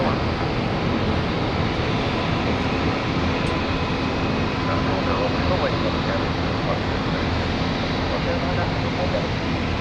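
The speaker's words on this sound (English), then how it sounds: "We've got KLM, which is just on approach from Amsterdam." A KLM airliner from Amsterdam on approach to London City Airport gives a steady broad engine roar, loud and continuous throughout, with a voice talking intermittently over it.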